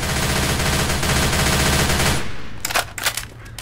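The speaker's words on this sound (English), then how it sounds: "Going with the machine gun." Sustained machine gun fire rattles continuously for about two seconds in the video game Left 4 Dead 2, loud and dense, then cuts off, leaving a few scattered impacts and clatter.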